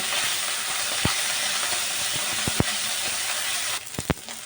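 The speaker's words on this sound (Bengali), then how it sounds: "আমি এভাবে অল্প অল্প করে মাছগুলোকে ভেজে নেব" Steady, loud sizzling of chapila fish frying in hot oil in small batches, a continuous hiss broken by a few sharp pops and clinks.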